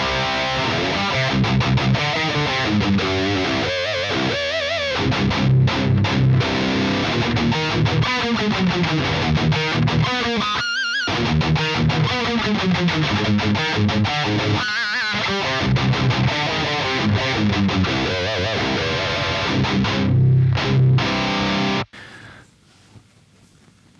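Heavily distorted electric guitar rhythm and lead playing through a Jens Bogren Valovirta impulse response, dense and loud for over twenty seconds before cutting off abruptly.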